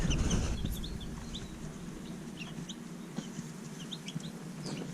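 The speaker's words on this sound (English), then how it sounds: "Are those baby chicks?" Baby chicks in a brooder, a dense flock peeping and chirping continuously with scattered higher cheeps, close and moderately loud, with a low steady hum underneath.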